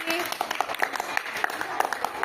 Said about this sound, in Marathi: टाळ्या वाजवा सगळ्यांनी त्यासाठी